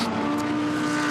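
Race cars at Brands Hatch roar past loudly and close, a steady sustained engine drone with a strong held tone and no voices over it.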